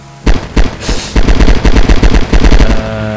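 Loud, close bursts of automatic gunfire rattle in rapid groups, with a sharp blast partway through and short pauses between volleys.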